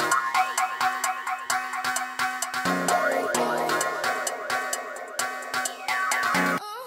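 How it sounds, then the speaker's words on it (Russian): A Brazilian funk beat runs through a Looperator effect preset, giving stuttering, chopped, pitch-bending repeats of springy, boing-like synth and vocal fragments over punchy low kicks. The pattern is dense and rhythmic, with no talk over it. "после первого хука у меня стоит луператор вот с такими вот настроечками"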